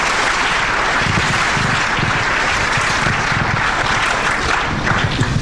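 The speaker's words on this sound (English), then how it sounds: "let's just give them a round of applause" Sustained applause from an audience at an evening lecture and panel before Muslim students, thanking the panelists. A dense, steady wash of many clapping hands fills the whole stretch at even loudness, with no voices over it.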